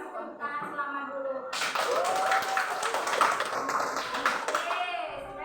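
Students in a classroom burst into a short round of clapping, a sharp wash of claps following quiet moments of a teacher speaking, with voices continuing over and after the applause.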